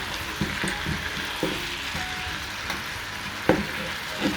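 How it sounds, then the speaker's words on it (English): Marinated oxtail browning in a pot for Jamaican oxtail, a steady close sizzle with occasional knocks and scrapes as the meat is turned. "Turning the meat over. It can brown on the other side too."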